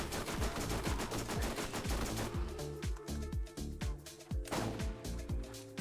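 Rapid automatic gunfire from a video game shooter, Borderlands, rattles off in fast, loud, regular bursts with brief pauses, close and dominant throughout.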